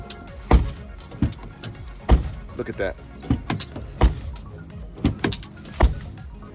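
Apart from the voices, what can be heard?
broken glass rattling inside a car door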